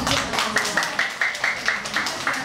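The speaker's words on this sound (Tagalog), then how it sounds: "Oh, lakas na palakpak!" Hands clapping in applause at a residential community gathering, a fairly regular series of crisp claps at a brisk rhythm, close and clear, with a faint voice or tone underneath.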